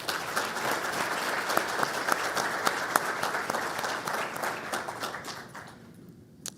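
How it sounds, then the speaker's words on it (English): Audience applause at a live-streamed DOE Solar Decathlon event welcomes online viewers: dense, steady clapping from a large crowd that carries on for several seconds and then thins out toward the end. "Let's all give a round of applause to folks watching online to welcome them."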